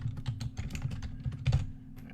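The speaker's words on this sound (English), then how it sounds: "Type in your name," Quick keystrokes clatter on a computer keyboard as a name is typed, a brief run of close, light taps with an irregular rhythm over a low steady hum.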